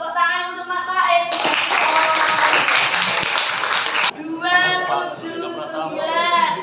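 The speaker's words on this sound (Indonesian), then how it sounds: "Tepuk tangan untuk Mas Said." Classmates in a classroom give a burst of clapping that lasts about three seconds. Talk comes before and after it.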